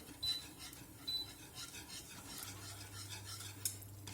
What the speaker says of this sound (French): Donc, on remue bien.